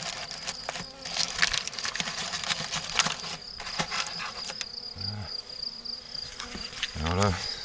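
Swarm of honeybees buzzing steadily at close range, a dense continuous hum with scattered louder passes near the mic and a few faint knocks, no talk.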